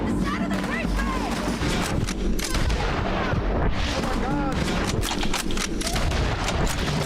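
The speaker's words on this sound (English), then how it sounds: "Who are you shooting at?" Dense, continuous gunfire and booming shots from the video game Red Dead Redemption 2 fill the scene with rapid cracks and rumbling blasts, while voices talk underneath.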